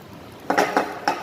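A tortilla set into a pan while making cheese enchiladas, heard as a few close metallic clanks and scrapes of the pan and utensil in an uneven rhythm, with no talk.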